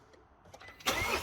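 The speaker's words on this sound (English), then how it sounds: "instantly fires up, sounds lovely" A Mercedes W212 engine, just fitted with a new timing chain, cranks briefly and fires straight up, the start rising sharply near the end of a short, fairly close recording.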